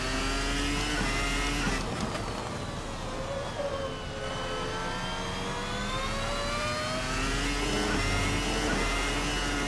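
Formula 2000 V10 race car in a racing simulator, its high-pitched engine screaming steadily with rising and falling revs and quick shifts throughout, close and continuous with no talk.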